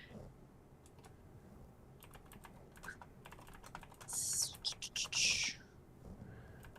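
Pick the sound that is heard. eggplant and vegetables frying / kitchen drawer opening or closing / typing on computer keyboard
typing on computer keyboard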